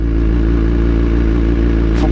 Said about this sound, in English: Pull in the clutch. Cut off the throttle. Second gear.